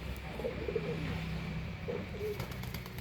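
Paired pigeons nesting on eggs in a breeding loft coo in low, throaty phrases, several calls spaced across the moment, close but fairly soft over a steady room hum.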